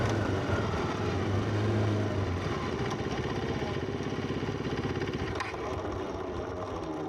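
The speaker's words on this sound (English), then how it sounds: "I'm so sick of this bike stalling" A KTM 390 Duke motorcycle engine idles with a steady, close mid-pitched throb that runs throughout, loudness barely changing, with a few faint knocks over the top.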